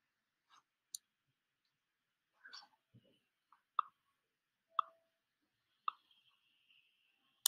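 A computer mouse gives sharp, quiet clicks, about eight of them spaced irregularly over several seconds in an otherwise silent room.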